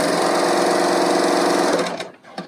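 A Brother L890 serger runs fast through double layers of fabric, a loud, dense, steady mechanical whir up close that slows and stops near the end with a couple of faint clicks.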